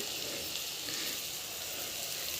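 Corn fritter (garelu) batter fries in hot oil with a steady, even sizzle and bright crackle, close up and continuous with no talking.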